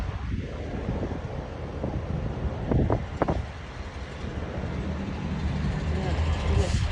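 Strong storm wind buffets an outdoor microphone during a tornado warning, a constant rushing roar that swells toward the end, with a few brief sharp bursts near the middle and some indistinct speech underneath.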